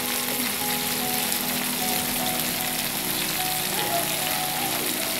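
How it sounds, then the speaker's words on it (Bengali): Onions frying with pointed gourd in a pan give a continuous, even sizzle like steady rain, moderately loud and close throughout, with no talking. "এর মধ্যে দিয়ে এখন পেঁয়াজগুলো দিয়ে দিচ্ছি।"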